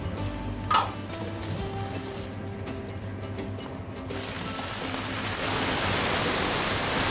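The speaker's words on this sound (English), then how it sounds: "heat the oil, little bit garlic" Garlic and spring onion fry in hot oil for a Chinese New Year pork dish, making a steady, dense sizzle that swells louder toward the end with faint clinks near the start.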